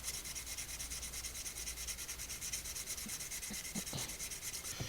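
A knife is rubbed steadily across a natural whetstone, giving a continuous gritty scraping hiss in even strokes, close and quiet, with a few small knocks near the end.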